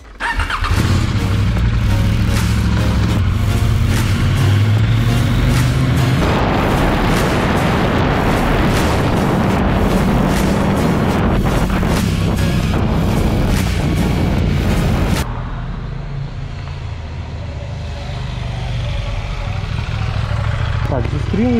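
KTM Duke 790 motorcycle engine droning loud and close during riding, with a steady low rumble and wind noise that drops to a softer running tone toward the end.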